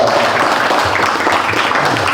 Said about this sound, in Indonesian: Tepuk tangan dulu untuk sekretaris Banser